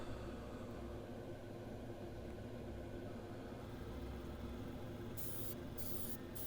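An airbrush sprays paint in a small home spray area in a loft. It gives a steady, continuous hiss at low level, with a brief higher sputtering near the end.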